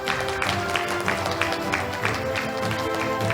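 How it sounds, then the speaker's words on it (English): Audience applause for a guest of honor at an opening ceremony, a steady patter of many hands clapping at moderate distance, continuing evenly with little else above it. "help me, give a big round of applause to our guest of honor."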